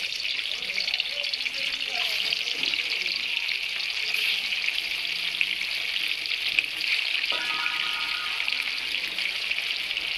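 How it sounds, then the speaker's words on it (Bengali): Pieces of catla fish fry in hot oil on a stove, giving a continuous, close, even sizzle that hisses without pause throughout. "এদিকে আমাদের মাছ ভাজা হচ্ছে"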